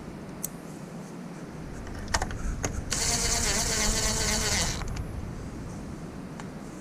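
A power driver runs down the fastener on a TSS sensor mounted in a TRD Pro grille on a 2021 Toyota Tacoma, giving a close, steady whir of about two seconds, with light clicks and handling noise around it.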